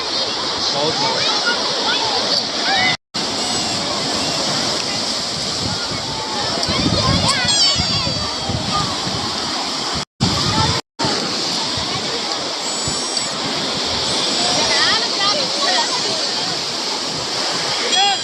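Sea waves wash onto the beach at Puri on a cool winter day, a loud, continuous roar of surf and wind close by, with people talking over it.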